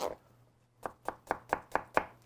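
A knife cuts peppers into julienne strips on a board, one early cut followed by a pause and then six quick, evenly spaced, close chopping taps.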